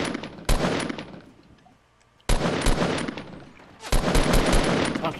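Fortnite gunfire: loud bursts of shots in two clusters separated by a quieter lull, sharp cracks repeating rapidly, with some background voice chatter.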